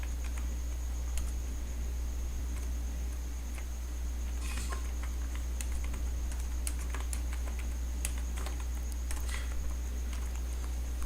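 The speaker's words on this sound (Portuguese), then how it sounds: "Então agora eu vou digitar o texto" Rapid, continuous clicking of keys on a computer keyboard while a document is typed in Word 2013, close and steady over a constant background hum, with no talking.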